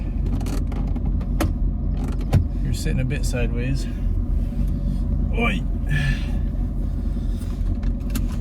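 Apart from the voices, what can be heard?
Mercedes C55 AMG car driving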